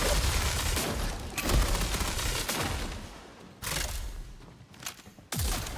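Gunfire from an overpowered gun in a video game, rapid bursts of loud, heavy shots in several volleys separated by brief pauses, close and punchy with no talk.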